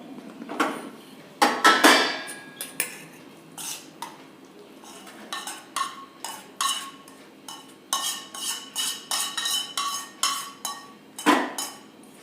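Spoon scraping and clinking against a steel plate greased with desi ghee as a thick ice cream mixture is transferred, a series of irregular close metallic taps and scrapes with quiet gaps, no talking.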